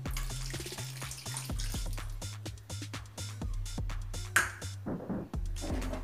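Tamarind water is poured into a pan of dried-fish curry, making faint splashing with dense patter and clicking drips throughout and one sharper knock near the end.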